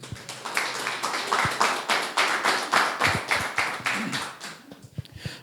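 A church congregation claps in praise during a Lord's Supper service, fast rhythmic unison handclaps, loud and regular, fading and breaking up in the last second.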